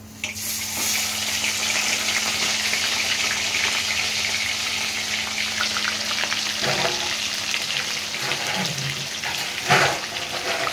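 Mutton bones dropped into hot oil set off a loud, continuous sizzle and crackle, with a few stirring clatters near the end.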